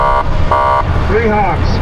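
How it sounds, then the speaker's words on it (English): A small horn on a Willamette River jetboat gives two long honks, each a steady buzzing tone, over loud engine and water noise, followed by a person talking. "I will give you guys 3 honks on this little horn."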